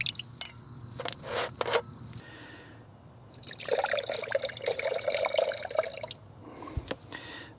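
Full synthetic engine oil poured into the V8 of a 2025 Ford Mustang GT, heard as a steady glugging trickle that builds midway and runs for several seconds, with a few clinks and handling noises before and after.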